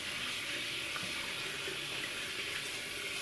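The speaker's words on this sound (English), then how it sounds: "Wash the hands." Tap water runs steadily into a sink while hands are washed beneath it, a close, continuous splashing hiss with no talking.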